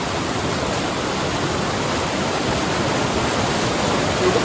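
Rushing creek water pours steadily at a river crossing on the Pacific Crest Trail, a dense, loud, unbroken roar with no voices over it.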